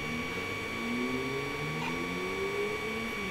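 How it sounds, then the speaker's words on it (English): A Creality CR-10s 3D printer lays down a raft, its stepper motors giving a steady whine with slowly rising tones and fan hum, a close mechanical drone with no talking. "What it's doing here is it's printing out the raft."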